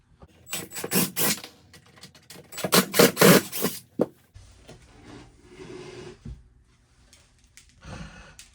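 Screws are taken out of the fender well panel of an RV dinette, with a cluster of sharp rattling, clattering bursts up close, followed by quieter scraping and handling noises.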